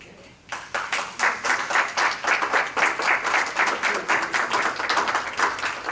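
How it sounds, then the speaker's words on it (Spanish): Audience applause welcoming a speaker to the microphone at a Cuban exile writers' club gathering: a sustained crowd of clapping hands, fairly close and steady, with no voices over it. "Ángel Cuadra, lo invito a que venga a este micrófono con un fuerte aplauso"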